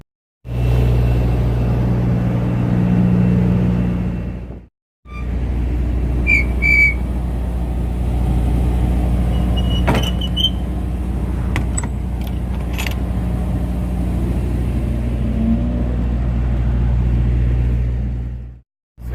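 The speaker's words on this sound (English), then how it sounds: "I have to go shut my doors right in the middle of the street." A truck's engine idles steadily in a city street, with a few sharp metallic clunks of its doors being shut partway through. No one speaks.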